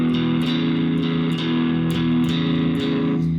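Electric guitar plays a blues shuffle rhythm pattern in E, steady rocking chords with a light overdrive, picked in an even repeating groove, close and alone with no voices.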